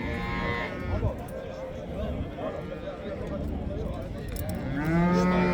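Cattle at a livestock market moo in long, low bellows, one near the start and a louder one toward the end, over the constant murmur of people talking nearby.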